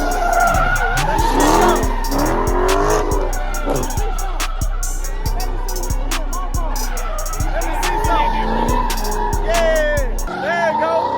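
A Dodge Scat Pack at a car show revs hard and skids its tires, loud repeated engine roars and long tire squeals pulsing over several seconds, with people talking and shouting close by.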